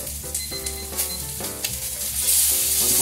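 Rib eye steak sears in a cast iron pan with a steady, close crackling sizzle, intermittent utensil clinks and stirring, and a brighter burst of spitting toward the end.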